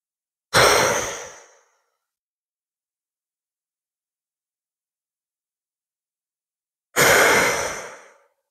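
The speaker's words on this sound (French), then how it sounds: "tu vas prendre 3 grandes et profondes respirations maintenant" Two deep, slow breaths during a guided meditation, each a soft, airy exhale lasting about a second, separated by a long stretch of silence.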